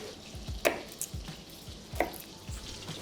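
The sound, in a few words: butter foaming and caramel browning in a pan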